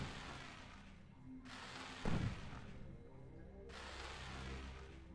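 In the video game Fireworks Simulator, a red crisp pistil firework bursts with a sharp thump at mid-clip over a steady low rumble, followed by soft crackling fizz, fairly faint overall.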